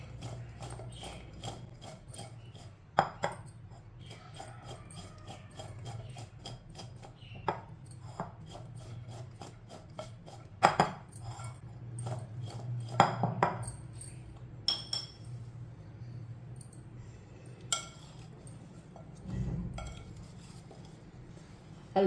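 Salt and turmeric powder stirred together in a bowl for mango pickle: a quiet run of irregular spoon scrapes and sharp clinks against the bowl over a low background hum.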